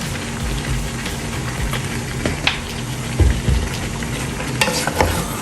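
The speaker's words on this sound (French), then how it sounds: "On mélange le tout, on mélange très bien." Meat and vegetables sizzle steadily in oil in a pot while a spoon stirs through them, with close scraping knocks and clatters over the continuous frying hiss.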